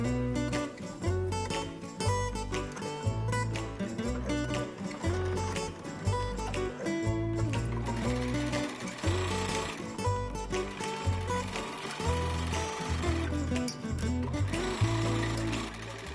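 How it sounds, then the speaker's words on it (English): A sewing machine stitches close to the edge of a skirt pocket, its steady rapid needle clatter running continuously and fairly close, broken by brief pauses between bursts of stitching. "Then we're gonna take them over to the sewing machine and we are gonna sew, you know, real close to the edge here."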